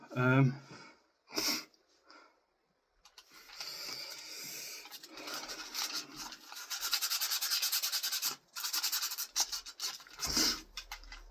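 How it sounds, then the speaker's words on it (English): An 80-grit power sander rubs down a model bus with a rough, buzzing scrape that runs in uneven bursts and pauses, fairly close and moderately loud. "this is a 80 grit sander straight away"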